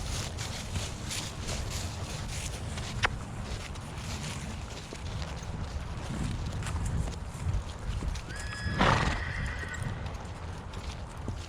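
A pony being ridden around a pasture, steady hoofbeats clip-clopping throughout, then a loud, clear whinny near the end, close by with no talk.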